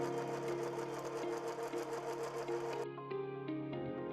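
A 2300SZ direct drive zig zag sewing machine stitching through coiled rope for a basket, running with a steady rapid mechanical whir that cuts off abruptly near the end, leaving only a brief fading hum.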